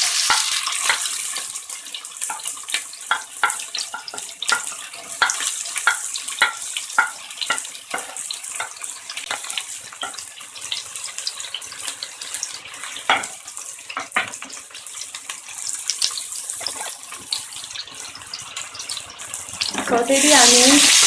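Onions, cumin seeds, bay leaf and curry leaves frying in a pan for a dal khichdi, a loud, dense crackling sizzle with rapid spitting pops that settles into a steadier hiss, swelling again at the end.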